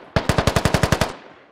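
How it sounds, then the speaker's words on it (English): An assault rifle in the video game Squad fires one loud, close automatic burst of about ten evenly spaced shots, followed by a short fading echo. "And an AR just firing here."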